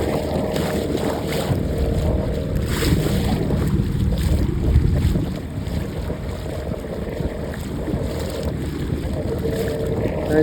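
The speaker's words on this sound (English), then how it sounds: "I'm in my little dinghy." A small dinghy out on open water in steady wind, with constant wind buffeting and water wash filling the sound, close and continuous with no clear talk.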